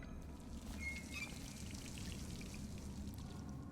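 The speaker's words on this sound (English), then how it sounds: "Faucet, okay." Running faucet water in the Dishonored video game, a steady broadband rush and trickle that holds evenly throughout at moderate level with no talk over it.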